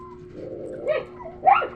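A dog gives a couple of short, whiny yelps and barks at moderate distance, with a low hum underneath and brief pauses between sounds.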